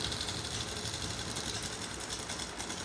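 Sewing machine stitching a pocket onto layered cloth for men's briefs, running as a steady, continuous mechanical whir close by with no talk.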